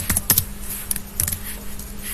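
Keystrokes on a computer keyboard, a quick burst of close clicky taps, several in a short run followed by a few scattered presses.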